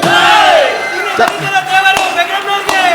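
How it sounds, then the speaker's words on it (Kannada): A theatre audience at a Kannada stage play by Ranga Samaja, Bangalore, claps and cheers. It sounds like loud, dense crowd noise with a few sharp slaps over about three seconds, mixed with shouting voices. "ಚಪ್ಪಾಳೆ ಬರ್ಲಿ ನಮ್ಮ ಪೆಕ್ಕರಪ್ಪನವ್ರಿಗೆ"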